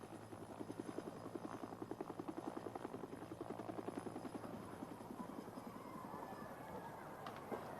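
A helicopter flying in a conflict zone in Eritrea, its rotor producing a loud, steady rapid chopping beat that fades into a broad engine drone, with faint voices underneath.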